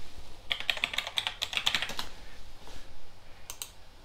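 A password is typed on a computer keyboard plugged into an ANNKE 8-channel DVR system, giving a quick burst of close, clattering keystrokes, a short pause, then a few final taps.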